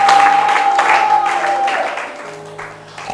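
A church congregation applauds in quick rhythmic bursts over a sustained held tone, with the clapping loud at first and then fading toward the end.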